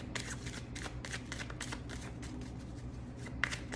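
A deck of tarot cards being shuffled over and over, with rapid papery riffles and soft slaps, close up, steady throughout.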